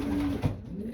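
A racing pigeon gives a short, low coo inside a loft, close by, with a soft background hum.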